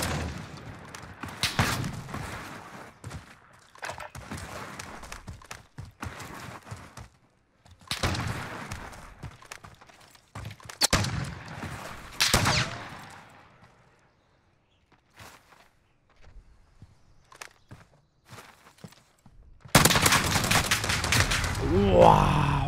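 Bursts of gunfire in a one-on-one video game match come in separated clusters with quiet gaps and footsteps between, ending in one loud sustained volley; someone comments at times.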